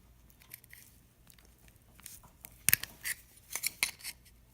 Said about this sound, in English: So I'm gonna cut it with a pair of these wire cutters right here.